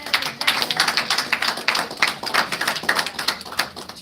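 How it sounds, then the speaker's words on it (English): Conference audience at an Africa Engineering Week event claps in a lively, uneven burst, many hands close and loud, with sharp individual claps standing out through the steady rattle. "Round of applause."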